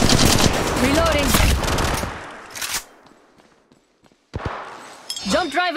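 Automatic weapon fire in an Apex Legends match, loud rapid bursts in the first two seconds followed by a brief lull and more scattered shots, with game voice lines and player chatter mixed in.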